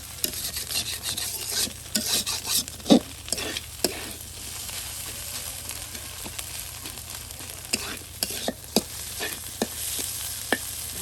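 Potato mash with egg fries crisp in a village kitchen, a continuous close sizzle broken by repeated sharp spatula scrapes and taps against the pan.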